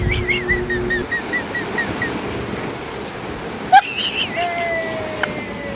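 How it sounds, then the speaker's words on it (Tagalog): Strong sea waves crashing on a beach, a loud, continuous wash of surf with wind noise, heard under whistle-like tones and a short sharp sound near the middle. "Dahil nga sa lakas ng alon, nagmistula itong musika, kaya naman sinayawan namin ang hampas ng alon."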